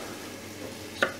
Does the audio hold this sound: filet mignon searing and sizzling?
yes